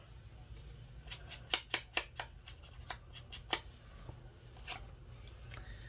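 Scissors cutting paper during a craft project with Tim Holtz supplies, giving a quick series of sharp, close snips in a quiet room.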